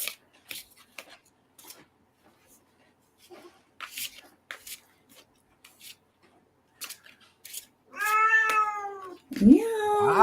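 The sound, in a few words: cat meowing loudly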